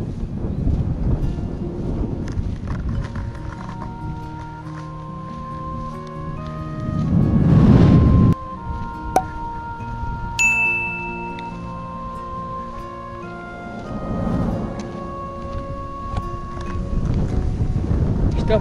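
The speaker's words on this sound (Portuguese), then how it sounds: "Isto é um pouco de vento." Wind at Praia dos Alteirinhos near Zambujeira do Mar gusts straight into the microphone, with heavy rumbling buffets that swell loudly in the middle and again near the end, partly over a voice.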